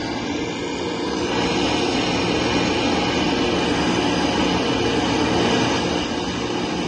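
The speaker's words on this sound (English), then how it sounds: "That is taking off in the Focke-Wulf 190D" Focke-Wulf 190D piston fighter taking off in a flight simulation, a loud steady engine roar that builds slightly and stays dense and continuous throughout.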